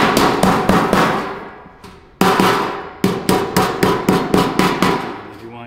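Loud metallic hammer taps ring out on a sheet metal duct transition, a quick series of sharp clangs with a brief pause, then a steady rhythm of blows.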